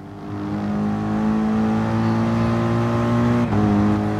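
Race cars surging off the line at a rolling start in Gran Turismo Sport, engines droning steadily and loudly with sustained harmonic whine, briefly dipping near the end as revs shift, no talking.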